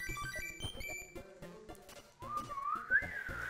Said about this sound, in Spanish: Silbaste muy bien.